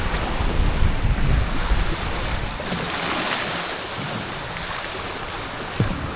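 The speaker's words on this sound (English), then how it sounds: "It's getting very windy." Strong wind over open sea while sailing a Hobie Cat 16 between Italy and Croatia, a loud steady roar of gusts and buffeting microphone noise mixed with surging water, no voices.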